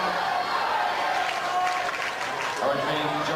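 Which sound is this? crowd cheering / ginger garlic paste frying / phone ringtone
crowd cheering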